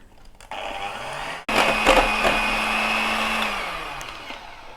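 An electric whisk whirs through protein powder in a frothy keto mixture: a soft start, then a loud steady motor drone that slowly sinks in pitch before easing off.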